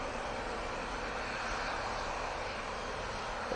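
An easyJet airliner rolls down the runway on takeoff at Manchester Airport, its engines producing a loud, steady broadband roar that holds evenly throughout with no voices over it.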